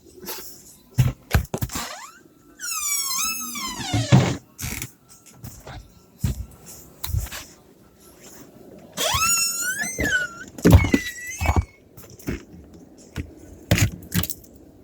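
A door creaks loudly twice in long, squealing, wavering groans during a snowstorm in Newfoundland, surrounded by irregular knocks and clunks at close range.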